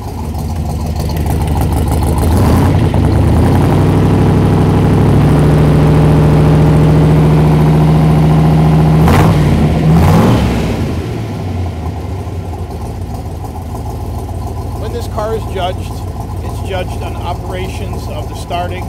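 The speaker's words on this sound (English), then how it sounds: "Now you get the opportunity to listen to the sound of what an L71 427" A 1967 Corvette with an L71 427 435-horsepower V8 runs loud and close, a deep rumbling idle that swells into a revving roar before settling back, with a person talking briefly near the end.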